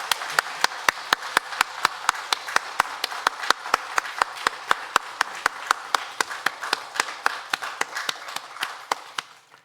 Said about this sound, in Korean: 힘찬 박수로 응원 드리겠습니다